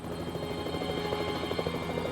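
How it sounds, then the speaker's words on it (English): A rescue helicopter hovers over a ship, its rotor giving a steady, fairly distant thudding chop over continuous engine whine. "everything's fine, there's the helicopter"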